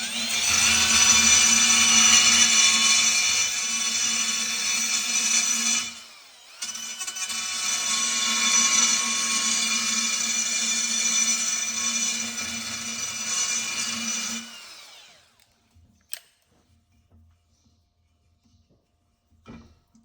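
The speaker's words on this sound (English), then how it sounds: "So I'm just going to grind it and turn it and take the end mushrooms off." An angle grinder grinds mushroomed, built-up weld off the end of a metal part, two loud, sustained high whining passes separated by a brief pause, then spin-down and a few faint clanks.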